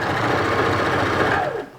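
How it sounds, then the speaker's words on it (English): A sewing machine stitching the facing of a scrubs top runs in a steady, loud, continuous whir close by, then winds down and stops at the end. "we are not sewing on the top, we're sewing on the facing"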